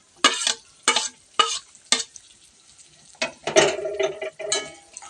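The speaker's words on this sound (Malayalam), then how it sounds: "ഇനി നമ്മള് വാട്ടി വെച്ച പാവക്ക ഇതിലേക്ക് തട്ടുന്നു" Wilted bitter gourd tipped into a pan for Kerala-style pickle, giving four sharp scraping stirs followed by a busier burst of clattering and a soft sizzle, close and without talk.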